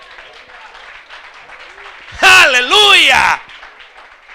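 Soft applause rises from a church congregation, and midway a single voice shouts loudly above it before the clapping carries on quietly.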